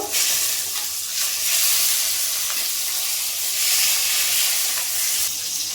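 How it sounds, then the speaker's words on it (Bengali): Two pieces of rohu fish fry in hot oil in a kadai, giving a loud, steady, close sizzle that runs continuously with no talk. "আমি দুটো মাছ কড়াইতে দিয়ে দিয়েছি"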